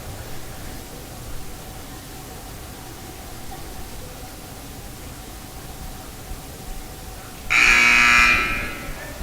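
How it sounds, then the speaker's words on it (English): A harsh, loud buzzer blares for about a second near the end of a girls' basketball game, following a stretch of steady background noise. "Buzzer rings."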